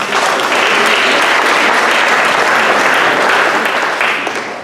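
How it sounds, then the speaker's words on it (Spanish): Audience applause at an evening round-table talk in Lima, a dense, steady clapping that fills the room at full strength for several seconds before easing slightly at the end. "Un aplauso, por favor, para su..."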